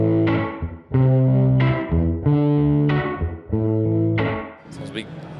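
An electric guitar through a Fender reverb pedal on its hall setting plays a series of sustained notes and chords drenched in spacious hall-like reverb, each decaying into a lingering wash.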